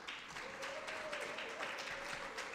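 Faint applause from a conference audience, a steady patter of clapping heard from a distance for a couple of seconds.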